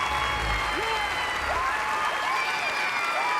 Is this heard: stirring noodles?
no